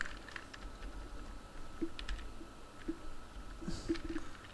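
Code being typed on a computer keyboard, a continuous patter of soft close key clicks with a few louder taps, with no talking.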